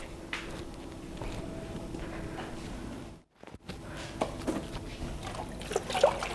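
Chusen-dyed tenugui cloth being rinsed in water: a steady trickling and sloshing runs throughout, with a brief near-silent gap midway, and no voices.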